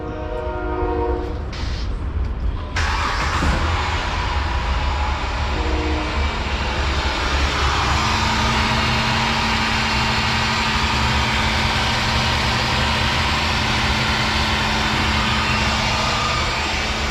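A Dodge Charger with a dozen problems cranks and catches after a few seconds of background noise, then settles into a loud, steady, rumbling idle with a constant low drone, close by and with no talk.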